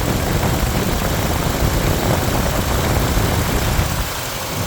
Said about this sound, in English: So this engine is running just beautifully